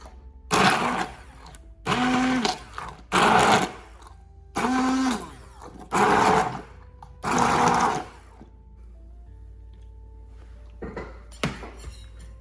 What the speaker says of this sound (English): Now I'm just going to blitz it with my stick blender.